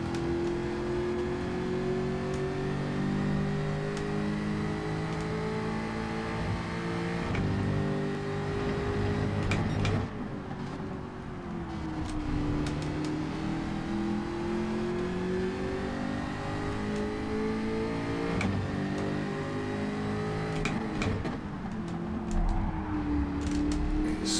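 A Jaguar Group 4 race car in Gran Turismo 7 roars steadily around Catalunya, its engine note rising through the gears and dipping under braking, with sharp gearshift clicks, loud and continuous.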